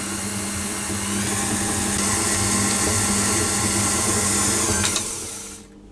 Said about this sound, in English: I'm going to continue to beat that until the butter and the icing sugar are all